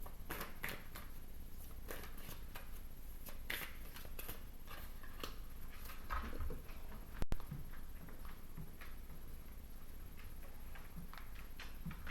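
Soft, irregular riffling and tapping of tarot cards being shuffled, quiet and close, with no talking.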